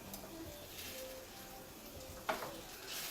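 Butter sizzles and fries steadily in a pan on the stove, a soft continuous crackle close by with one brief clatter of a utensil partway through.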